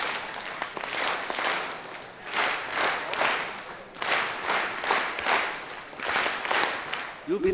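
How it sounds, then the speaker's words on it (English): A group at a district installation event claps together in a patterned 'happy clap', bursts of many hands in repeated counted sets that rise and pause, loud and close with no talking. "Happy clap, go!"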